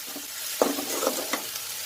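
Green chilli and ginger sizzle softly in oil in a pan, with a few quick stirring scrapes over a steady, close frying hiss.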